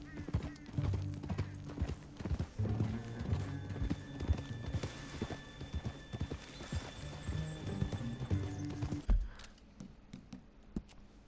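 Horse hooves clip-clopping in Red Dead Redemption 2, a rhythmic, fairly close trot of several horses over a steady low musical score, ending abruptly with a heavy thud.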